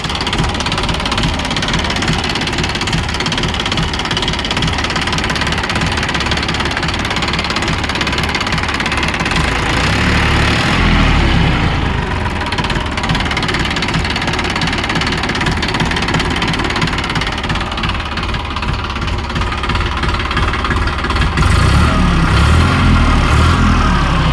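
A New Holland 3230 tractor's diesel engine idling nearby, a loud steady chugging rumble with rhythmic knocking throughout, no speech.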